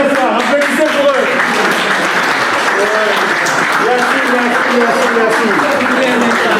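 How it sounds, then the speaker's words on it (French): Wedding guests at a traditional marriage celebration applaud loudly and steadily for the family, a dense wash of clapping from many hands mixed with cheers and chatter throughout. "applaudissez pour eux"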